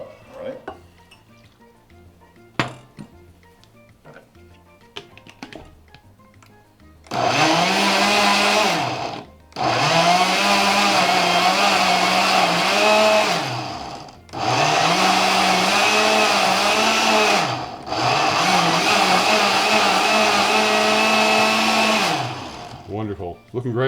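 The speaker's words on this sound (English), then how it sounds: "start blending this so I can make a little more room inside the blender" A blender whirs loudly in several long bursts separated by short pauses as it blends vegetables and broth for gazpacho, after some quiet clinking beforehand.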